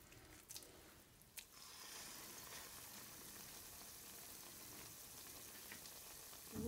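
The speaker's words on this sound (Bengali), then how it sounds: "তেলটা গরম হয়ে গেছে, আমি অলরেডি দেওয়া শুরু করেছি।" Falafel frying in hot oil gives off a soft, continuous sizzle with a few brief pops near the start, quiet and steady.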